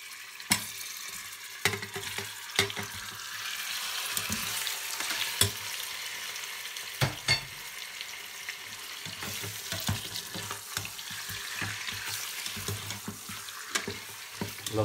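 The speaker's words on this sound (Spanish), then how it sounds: "en este aceite vamos a rehogar el pollo" Chicken pieces sizzle steadily in hot oil in a pot, browning for a traditional-style chicken dish, with occasional sharp clacks of a utensil and gentle stirring scrapes over the continuous frying hiss.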